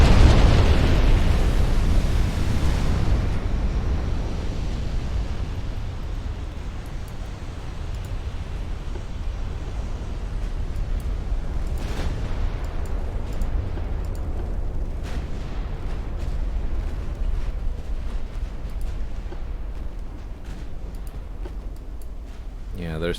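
Warship turrets blowing apart during a naval battle in the game Ultimate Admiral Dreadnoughts, a loud booming blast at the start fading into rumbling, with scattered later bursts and crackles under ongoing game noise.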